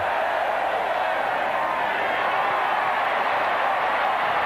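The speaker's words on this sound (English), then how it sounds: "gets a big hand from the Aggie crowd" A stadium crowd at a 1988 Texas Tech versus Texas A&M college football game gives a player a big hand as he leaves the field, a broad steady roar of clapping and cheering heard from a distance, with an announcer talking.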